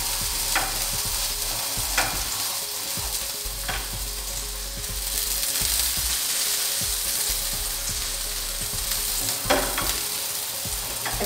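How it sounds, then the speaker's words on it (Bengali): Food fries in oil in a pan with a constant close sizzle, occasional clinks and scrapes of stirring and turning breaking through at irregular intervals. "তেলটা একটু নাড়া দিয়ে সব জায়গায় দিয়ে দেওয়ার চেষ্টা করবেন এবং ধরে উল্টিয়ে দেবেন।"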